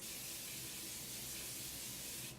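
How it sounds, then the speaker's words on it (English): Morphe Continuous Setting Spray, an aerosol can, releasing one continuous close hissing spray that holds steady for a couple of seconds before cutting off. "Today I'm using the Morphe Continuous Setting Spray."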